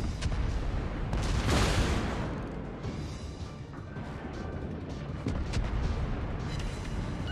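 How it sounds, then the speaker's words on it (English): Ship guns firing in World of Warships from behind island cover, a heavy boom early on that rolls into a long rumbling wash of distant naval gunfire. "Island cover's having me stealth fire like probably 20 rounds now"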